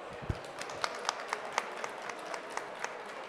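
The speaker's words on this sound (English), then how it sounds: "I think you all deserve a big round of applause" Light audience applause at a live-streamed evening event: a thin, scattered patter of a modest number of hands clapping, fairly quiet and somewhat distant, with individual claps standing out now and then.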